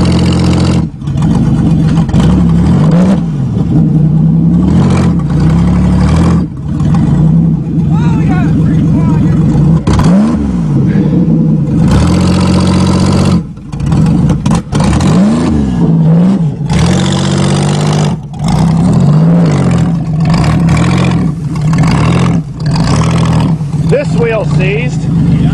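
An old Buick engine that has sat unused for a year runs loudly and roughly with repeated revving swells, close up, as people talk over it throughout.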